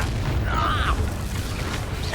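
Confringo blasting spell from the video game Hogwarts Legacy, a single muffled boom with a brief whooshing burst over a low rumbling game backdrop, under ongoing game sounds.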